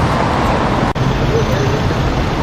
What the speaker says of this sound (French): Ici, la circulation est très dense